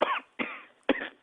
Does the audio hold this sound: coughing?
yes